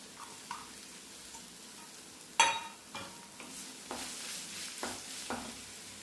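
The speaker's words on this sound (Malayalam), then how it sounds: "അതൊന്ന് വഴറ്റി വെക്കാം." Small onions sautéing in a pan give a quiet, low sizzle, broken by the scrape and clink of a spoon stirring, with one sharp metallic knock early and softer stirring strokes after.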